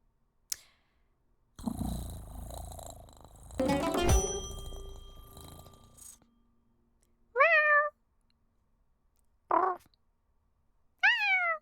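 A voice imitates a cat meowing: three short, rising-and-falling meows, fairly loud and close, coming after a stretch of clattering and a bright metallic ding.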